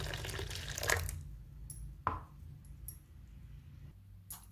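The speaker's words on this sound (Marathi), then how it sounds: "याच्यात हे भांडं आपण धुवून घेत आहोत" Water splashes and trickles briefly in a vessel, with a couple of sharp clinks as it is swirled and rinsed, then quiet dripping.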